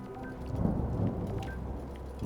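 A thunderstorm in the video game Return to Grace, with a faint, distant roll of thunder under a steady hiss of rain.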